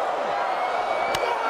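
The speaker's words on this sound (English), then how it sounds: "Michaels getting this huge crowd right back into it" A large wrestling arena crowd at a Shawn Michaels versus Daivari match keeps up a steady roar of cheering, with a brief sharp burst near the end, under a commentator's voice.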